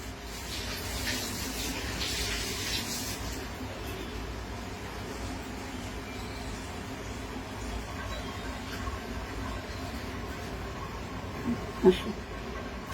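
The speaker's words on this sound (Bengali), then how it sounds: "এখন আমি একটু হাতটা ধুয়ে আসি" Hands are washed under a running tap in a home kitchen during rasmalai making, giving a faint, steady rush of water for about thirteen seconds with a small knock near the end.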